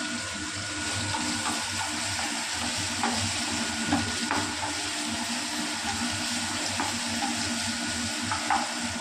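A curry with fresh coconut milk, still a little watery, being stirred and mixed in a pan. It makes a steady, close bubbling sizzle with soft scraping strokes, and no one speaks.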